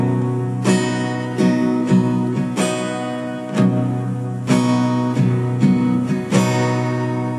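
A guitar plays a strumming pattern on its lower bass strings, about eight ringing strums at a steady, moderate pace, close and clear with no voice.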